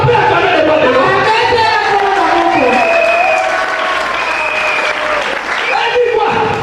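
A crowd applauds and cheers loudly and steadily, with voices calling out over the clapping throughout.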